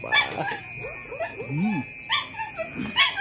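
Several dogs bark and yip close by, with high whimpering whines between the barks, in a noisy outdoor setting.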